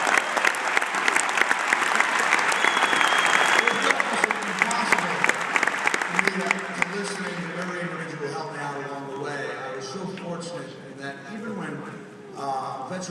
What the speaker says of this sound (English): let's have a big round of applause for Jimmy Superfly Snuka.